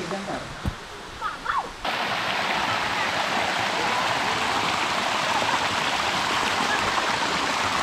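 Waterfall at Colablab Falls in Quezon Province: after a couple of seconds of quieter, busier sound near the start, a loud, steady broadband rush of falling water fills the rest of the clip without pause.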